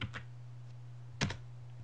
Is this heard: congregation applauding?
no